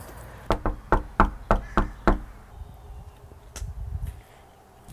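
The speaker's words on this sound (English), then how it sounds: "Give it one more good knock." A close series of seven solid raps on a residential front door, quick and steady, then a quieter outdoor background.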